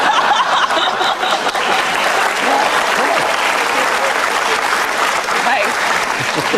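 Loud, sustained applause from a studio audience at a television talk show, dense and continuous throughout with scattered chuckles mixed in.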